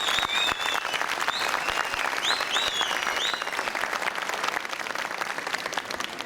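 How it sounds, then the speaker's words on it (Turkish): Crowd at a party district meeting bursts into sustained applause and clapping, steady and dense throughout, with a few whistles and cheers rising above the noise. "Kocaman bir alkışı kendimize yapalım."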